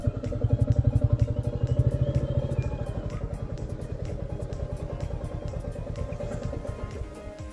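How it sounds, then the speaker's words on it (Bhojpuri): A motorcycle idling close by in a parking spot near Elephant Falls in Shillong, with a steady, throbbing engine putter that slowly fades slightly as it settles. "पार्किंग करना है बाइक को"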